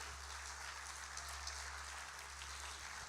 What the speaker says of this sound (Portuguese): Será que você pode aplaudir esse Deus nessa noite?